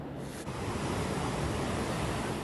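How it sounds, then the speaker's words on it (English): Ocean waves break at Ocean Beach in San Diego during a tsunami warning, a loud, continuous wash of surf with wind rushing across the microphone and no voices. "Folks here at Ocean Beach got a front row seat to see some epic waves coming in."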